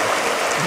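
Steady river stream flowing, a continuous broadband rush of moving water that stays even and close throughout with no voices.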